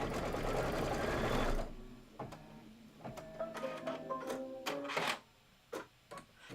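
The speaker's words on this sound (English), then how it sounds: "So I'm going to stitch it down first." A sewing machine runs in a steady whirring burst as it stitches fabric down for a Kimberbell Full Bloom quilt block, then stops, leaving scattered clicks and handling noises.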